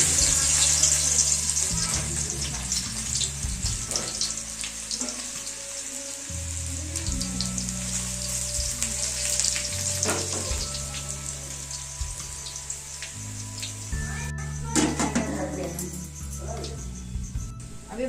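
Spice tempering sizzles and crackles steadily in a hot wok (kadhai) before onion greens go in, a continuous close frying hiss with scattered pops and low background hum throughout.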